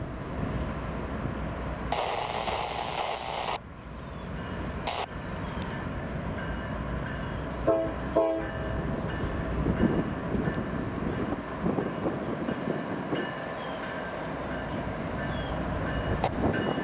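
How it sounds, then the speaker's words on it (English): A westbound Norfolk Southern grain train of empties rolls past as a steady, moderately distant rumble of rail cars, with a short horn-like tone early on and scattered clanks, no talk. "Looks like another grain train, actually."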